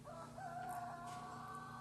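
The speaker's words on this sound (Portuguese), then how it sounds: "E o galo cantando." A rooster crows once, faint and distant, in a single drawn-out call with a steady low background hum.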